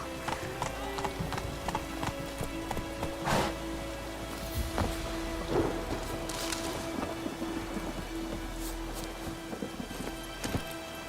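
Hooves of the horse Roach clip-clop at a gallop in Witcher 3 over rain and a low rumble of game ambience, with a couple of brighter hits and faint background sounds.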